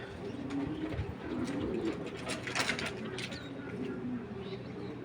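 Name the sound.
maxi pigeon cooing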